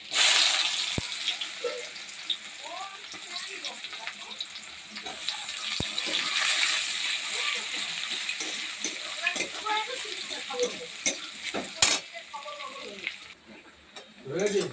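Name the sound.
onions frying in oil in a wok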